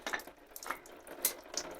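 Water drains from the oil cooler of a Kia Sedona/Carnival (Hyundai 2.9 CRDi) during removal, a steady splashing trickle like a running tap with a few brighter splats, close by and fairly quiet.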